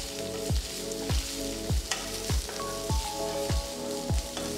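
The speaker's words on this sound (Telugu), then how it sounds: "ఇందులో చిన్నగా తరిగిన వెల్లుల్లి రెబ్బలు, చిన్నగా తరిగిన 1 అల్లం ముక్క, తరిగిన కొన్ని పండుమిరపకాయలు వేసి వేయించాలి." Chopped garlic, ginger and red chillies frying in oil in a kitchen: a constant hiss with regular clanking strokes about every half second, a humming tone in the background, no speech.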